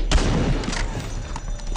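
Gunfire from the zombie shooter video game Into the Dead 2, dense close-range shots and booms crowding together in a loud, continuous burst of impacts.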